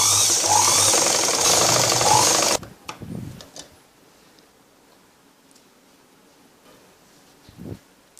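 A sewing machine stitching a blouse runs in a loud, fast mechanical whir for a couple of seconds, then stops, leaving only faint clicks and handling noises.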